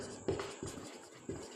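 Someone writes a conclusion by hand, most likely working a class 12 matrix problem, with three soft scratching pen strokes close up in a quiet room.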